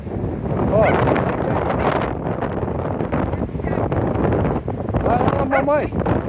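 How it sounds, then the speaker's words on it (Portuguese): Wind gusts rumble across the microphone at Praia do Foguete beach, a steady loud buffeting with people talking over it and a few brief higher-pitched voices breaking through. "Olha o vento."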